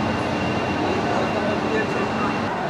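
Express passenger train 12821 Howrah–Puri Dhauli Express standing at a platform, a steady dense station rumble and hum with constant broadband noise, no distinct events, continuous throughout.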